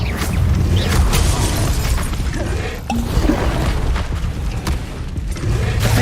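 Hogwarts Legacy combat spells like Confringo and Incendio go off as a loud, continuous stream of booming blasts and crackling bursts, dense and close with little pause between impacts.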